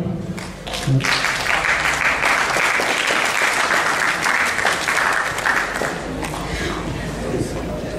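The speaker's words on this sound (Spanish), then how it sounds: "Recibámoslo con un fuerte aplauso, por favor." A university lecture audience in Arequipa claps loudly to welcome a speaker, a steady, dense round of applause that holds for several seconds before easing slightly.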